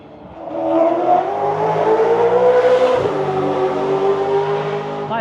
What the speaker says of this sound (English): Like the Supercars are going for it.